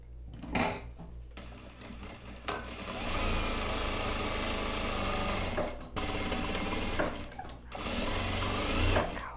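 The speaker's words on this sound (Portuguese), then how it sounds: "Agora eu vou reforçar a costura aqui na reta." A straight-stitch sewing machine reinforces a seam on a blazer in close, loud bursts of rapid mechanical whirring, stopping briefly several times between runs of stitching.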